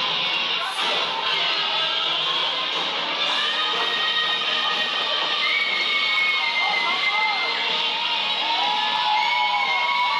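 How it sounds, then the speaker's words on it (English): A large wrestling arena crowd cheers loudly and continuously for a superstar entering the ring, a dense wall of whoops and yells with a commentator talking over it. "the fans here are still cheering very loud for this superstar"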